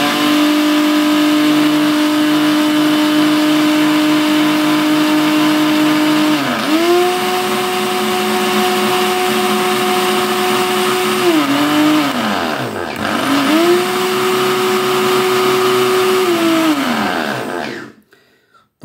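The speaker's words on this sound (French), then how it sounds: "Maintenant, du coup, je vais le faire sur un mixeur." An empty kitchen blender runs at speed 1 with a steady high motor whine that briefly dips and recovers twice, then stops abruptly near the end.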